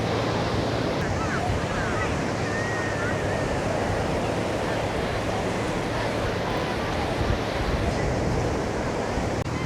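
Ocean surf rolls steadily onto a shore at sunset, a continuous loud wash of breaking waves with wind buffeting the microphone throughout.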